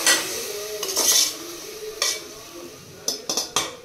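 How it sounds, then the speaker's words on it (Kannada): Ground masala paste being added and stirred into chicken biryani, with a spoon scraping and clinking against the pot in several short bursts, fairly close, with no talking. "ಇವಾಗ ರುಬ್ಬಿಟ್ಕೊಂಡಿರುವ ಮಸಾಲೆನ ಹಾಕ್ಕೊತಾ ಇದ್ದಾಳೆ"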